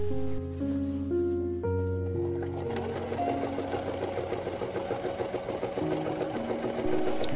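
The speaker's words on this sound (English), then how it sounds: "I had to constantly adjust and shift the way it was sitting in my lap so that I could get the entire thing to go under the sewing machine." A sewing machine stitches silk skirt panels nearby, with a fast steady mechanical patter. Background music with shifting tones plays under it.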